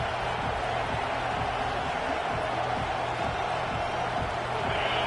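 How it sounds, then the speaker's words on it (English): A steady, dense roar of a stadium crowd in the College Football 26 video game, continuous and loud throughout with a low rhythmic pulse underneath and no clear voices standing out. "It's early, but this crowd is fired up. Listen to this noise here."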